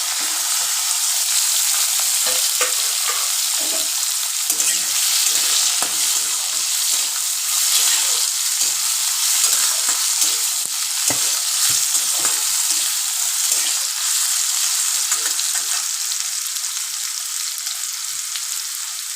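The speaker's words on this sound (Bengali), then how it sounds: "আলুটা কেটে ধুয়ে রেখেছিলাম, আলুটা দিয়ে দিলাম।" Cut, washed potato pieces hit hot oil in a pan for a banana-stem ghonto, giving a steady, loud, close sizzle with occasional scraping stirs throughout and no talking.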